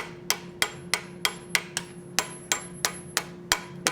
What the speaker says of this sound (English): If you keep your hammering to even on both sides of this line